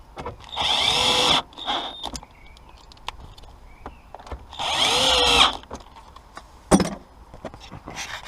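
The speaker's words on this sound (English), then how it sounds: "You can use the electric screwdriver." Electric screwdriver working on a Honda S2000 seat belt mount, giving two sustained whirring bursts separated by quiet handling clicks and knocks, close and fairly loud.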